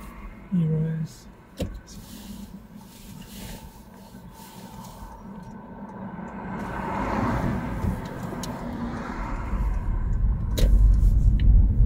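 A car pulls away during a UK practical driving test, its engine rising slowly from a quiet idle to a louder, close drone, with brief clicks and short bits of talk early on.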